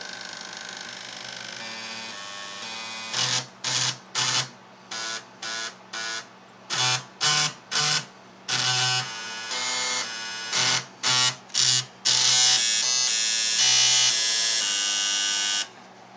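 A floppy drive jukebox plays a tune, its drive motors buzzing out a loud electronic melody of short stepped tones, with choppy staccato bursts giving way to longer sustained notes near the end.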